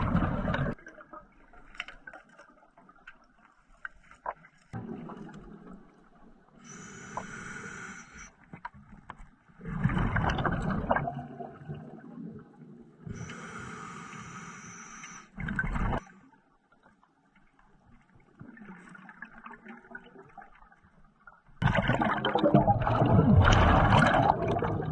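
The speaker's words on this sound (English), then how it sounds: "Maybe I'll just let you guys listen to the sound of me underwater just for a little ASMR." Underwater ambience beneath a dock at Cultus Lake, BC, recorded by a diver: muffled bubbling bursts and gurgles from exhaled breath come and go between quiet stretches, with a louder wash of bubbles at the end.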